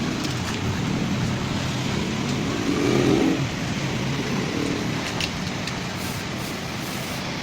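Road traffic with cars and motorcycles rolls past as a steady, dense roar, swelling slightly midway as one vehicle passes close.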